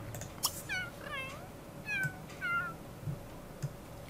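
A cat in The Sims 3 Late Night meows several times in short, separate rising and falling calls, fairly clear against a quiet background.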